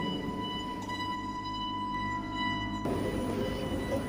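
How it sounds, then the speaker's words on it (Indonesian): A train rumbles past with a steady low roar and a sustained tonal whine, swelling louder and rougher near the end as it seems to come closer. "Kasima Roikosang pun tewas tertabrak kereta."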